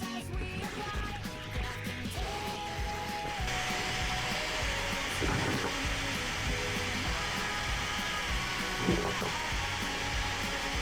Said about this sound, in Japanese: 結局普通の刃を横向きにつけて切るのが一番良かったみたいですね。